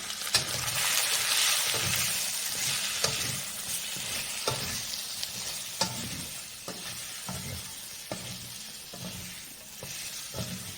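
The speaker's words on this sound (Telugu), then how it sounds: "దీన్ని బాగా కలుపుతాం." Goat head curry stirred in a pan with coriander powder, mutton masala, garam masala and pepper powder, giving a steady sizzle broken by repeated scraping strokes of the spoon, close and moderately loud.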